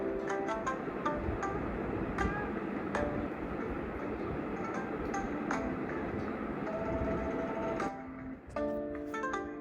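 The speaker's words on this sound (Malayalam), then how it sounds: "അങ്ങനെ അതാ ബുള്ളറ്റ് ട്രെയിൻ വിട വാങ്ങുകയാണ് സ്റ്റേഷനോട്." A Shinkansen Nozomi bullet train pulls away from the station with a steady, loud rush and rumble. A few brief tonal notes ring out near the end.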